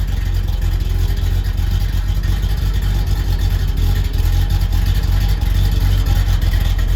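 A 1965 Corvette engine runs steadily at idle, a deep, continuous low rumble with slight surges, heard close and alone without talk.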